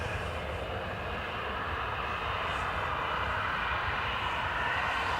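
A Ryanair jet departing Dublin Airport on a wet, windy day: a steady, loud broadband engine roar that holds constant and builds slightly throughout, with no voices.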